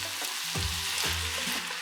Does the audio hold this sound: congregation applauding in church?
no